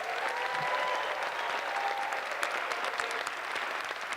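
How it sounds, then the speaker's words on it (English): Steady, sustained applause from a large audience fills a high school senior awards ceremony, dense clapping at an even level throughout with no break. "let's have one big round of applause for all of these students."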